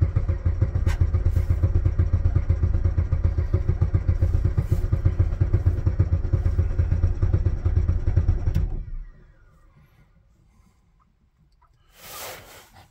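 A Jeep Patriot engine cranks loudly and rhythmically at -40 degrees for about eight seconds, then cuts off abruptly. A brief hissing burst follows a few seconds later in the quiet.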